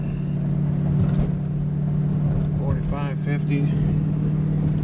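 Inside the cab, a squarebody Chevrolet Suburban with 3.73 axle gears and stock-size tires drones steadily as it accelerates while towing, its engine hum constant and loud under a man's brief speech.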